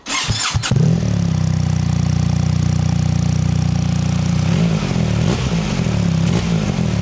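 BMW R1300GS motorcycle with its stock exhaust, starting up and settling into a steady, loud, close idle with a deep, even engine throb that runs throughout, with slight fluctuations near the end.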